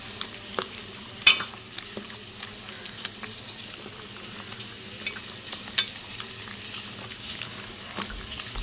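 Potatoes fry in hot oil in a pan, giving a quiet, steady sizzle with faint stirring scrapes and a couple of sharper clinks, heard alone without talk.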